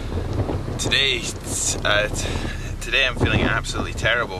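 Strong wind buffets the microphone of a touring cyclist on the road, a constant roaring rumble that nearly swamps someone talking close up.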